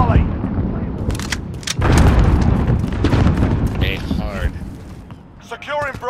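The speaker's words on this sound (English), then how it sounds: "I threw a grenade." A heavy grenade blast in Call of Duty: Modern Warfare, a loud close boom amid ongoing gunfire and mechanical clatter, with voices speaking over the fighting.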